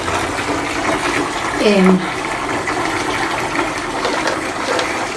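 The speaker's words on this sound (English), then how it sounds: "Okay, so I'm running the water, not too hot" Tap water runs steadily into a tub for soaking the mouldy bottom of a canvas bell tent, a continuous rushing close by, with a voice speaking briefly over it.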